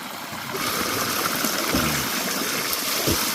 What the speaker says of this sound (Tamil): இந்த ஓடிக்கிட்டு இருக்கு பாருங்க. Super stream.